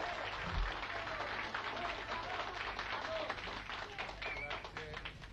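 Football fans in a stadium give a sustained round of applause, a dense crackle of clapping with a few louder individual claps near the start, steady and moderately distant throughout.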